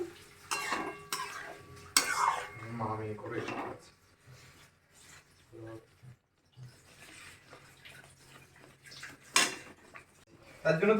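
Bhetki fish pilaf masala is stirred and sautéed in a pan, with intermittent metallic clanks and scrapes of a utensil against the pan and a soft sizzle in between, while a person talks over much of it.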